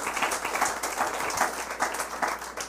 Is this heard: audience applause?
yes